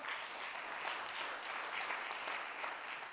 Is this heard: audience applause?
yes